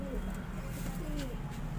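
Pigeons coo on a rooftop, soft low repeated calls close by over a steady background hiss, with a faint chirp or two in between.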